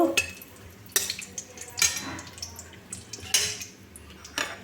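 Bay leaves and dried red chilies fry in oil as a utensil clinks and scrapes against the pan in a few sharp, close knocks over a soft sizzle; no voices.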